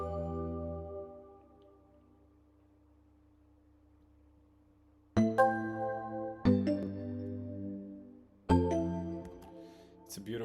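A synth sample plays a bright, bell-like melody with an island feel, struck notes ringing out after a sustained tone fades and a quiet pause; tones are clean and close with no voices.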